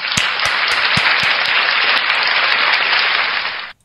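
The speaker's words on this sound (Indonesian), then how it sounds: "tepuk tangan buat Oten" Loud, dense audience applause fills a talk-show studio, opening with a few sharp distinct claps before settling into a continuous roar that cuts off abruptly near the end.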